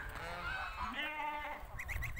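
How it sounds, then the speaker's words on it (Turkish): Geese in a garden giving several nasal honks, starting as drawn-out calls and ending in a quick run of short honks, fairly near and clear over low background noise, with no talking. "Kazlar ufak ufak bahçeye geri geliyorlar öyle."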